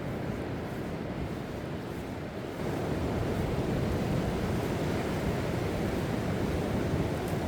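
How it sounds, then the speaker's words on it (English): Broad, steady wash of ocean surf at Lunan Bay, rushing continuously with a slight rise in loudness partway through, no voices. "It's a lovely, lovely sound of water on the waves."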